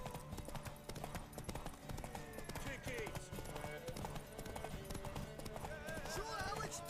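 Galloping horse hooves from The Witcher 3, a strong continuous clip-clop with an occasional whinny, mixed with game music and speech.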